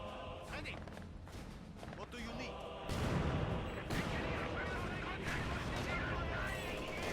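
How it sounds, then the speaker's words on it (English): A mortar barrage falls on a Panzer headquarters in a Company of Heroes 2 4v4 match, with gunfire and blasts that swell into a loud sustained rumble midway, heard under constant commentary. "Panzer headquarters looks like it's been taking some heavy fire, most likely from the mortar pit"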